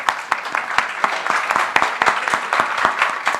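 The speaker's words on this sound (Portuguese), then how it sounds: "Eu pedi uma salva de palmas para a Marina" A small group claps steadily with uneven, sharp hand claps for a few seconds, fairly close and moderately loud.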